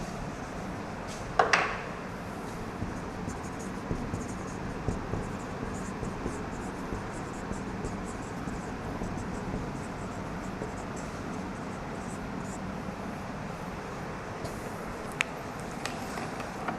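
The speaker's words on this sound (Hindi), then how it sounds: "इधर ही लिखना पड़ेगा ये।" Pen scratching steadily on paper as someone writes by hand, a faint continuous scrawl with a few sharper taps, heard close and alone in a quiet room.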